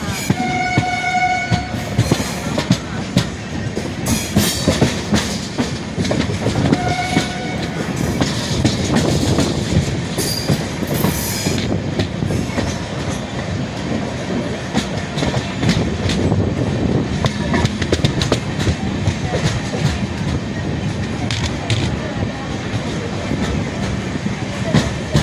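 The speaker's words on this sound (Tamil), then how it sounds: "இப்போ நம்ம மயிலாடுதுறை சந்திப்பு ரயில் நிலையத்துக்குள் நுழைந்து கொண்டிருக்கிறோம்." A passenger train rolls into Mayiladuthurai junction station on a rainy day, loud and close, with rhythmic wheel clatter, rattling carriages and a few sharp horn-like tones early on, continuing throughout.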